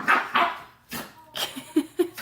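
A little puppy barks at a bigger dog indoors in a few short, high yips and whiny barks, fairly close and moderately loud, scattered over a couple of seconds.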